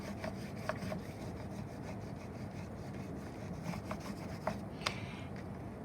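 Crayon rubbed firmly back and forth over a textured collagraph print plate, a steady dry scratchy rasp with a few sharper ticks, close and continuous with no talk.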